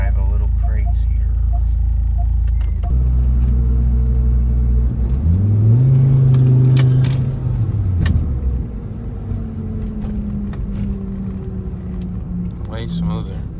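A 2001-2009 front-wheel-drive Volvo S60 on a new Bilstein B12 Pro-Kit suspension gives a steady low engine rumble inside the cabin. A rising and falling rev tone sounds midway, over constant road noise.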